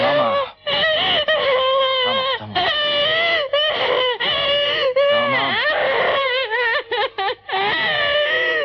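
A woman in a Turkish TV drama cries and sobs loudly, with wailing, broken breaths and whimpers running almost without pause, up close and in the foreground.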